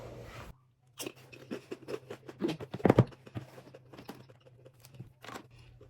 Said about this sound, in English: So I am gonna go get myself a snack.